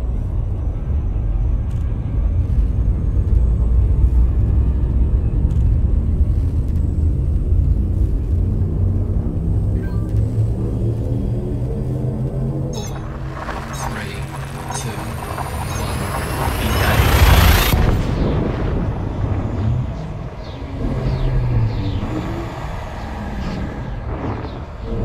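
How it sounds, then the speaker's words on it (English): A spaceship's shift drive charges and jumps in a video game, with a low droning rumble that gives way to a loud rising whoosh, followed by a sweeping roar that fades out. "Shift drive charging."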